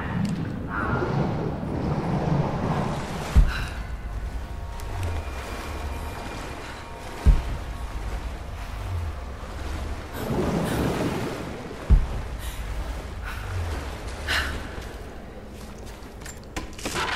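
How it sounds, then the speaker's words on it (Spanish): Inside a cave, a waterfall keeps up a steady, loud rushing roar of water, broken by a few dull thumps at regular intervals. "Que ahora sale como una especie de cascada"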